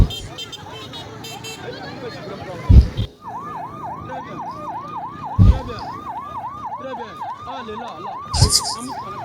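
A wailing ambulance siren at the scene of an accident involving the presidential motorcade in Kananga, DR Congo, rises and falls in rapid repeating cycles, with people talking over it and a few loud thumps.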